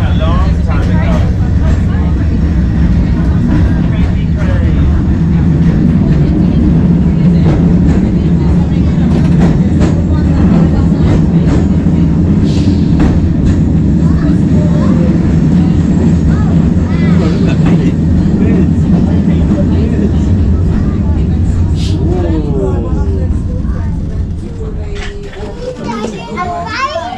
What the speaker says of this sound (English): Tram number 466 and the larger but younger Melbourne Tram 881